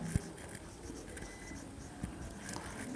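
Chalk or marker writing an equation on a board, faint soft scratching strokes with a couple of light taps, quiet and close in a classroom.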